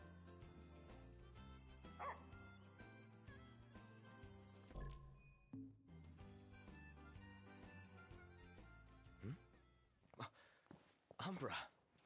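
Umbra, a dog in a Final Fantasy game, gives short barks and yips amid dense game music, with a few sharper yelps near the end.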